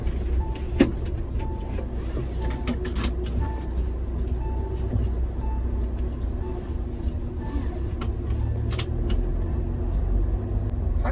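A car in motion, heard from inside the cabin as a steady low engine and road rumble with occasional clicks and light rattles, no one talking.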